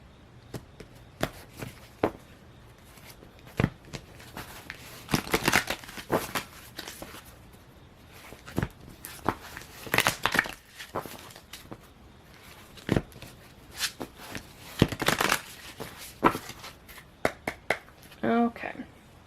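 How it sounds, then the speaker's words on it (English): Soft riffling and tapping of cards being shuffled in irregular bursts, close up, while a person talks throughout. "grab some oracle cards and we will get started shuffling those"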